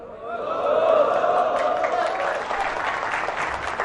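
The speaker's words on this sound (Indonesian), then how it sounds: "Allahu Akbar, jangan tepuk tangan." Applause from an audience inside a mosque: a dense, steady burst of clapping that swells quickly and holds fairly loud for several seconds.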